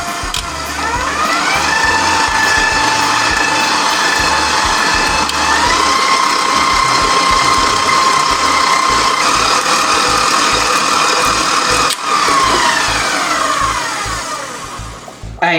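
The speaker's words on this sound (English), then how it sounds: "And we're going to continue to beat it." Electric mixer beating butter, sugar, eggs and vanilla for an Oreo pound cake, a loud steady motor whir running close and unbroken for about fifteen seconds before winding down, with no talk.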